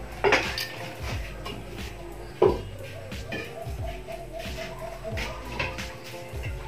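Metal pot clanks and light clinks of utensils being handled nearby, a couple of sharper knocks among softer shuffling, with faint background voices.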